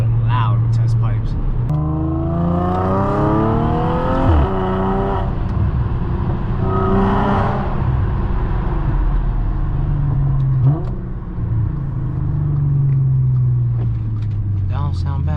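Audi S4 B8.5 fitted with an ECS Tuning valved exhaust revs hard and loud up close, rising and falling in several sweeping pulls that settle to a rumbling idle, with someone talking over parts of it.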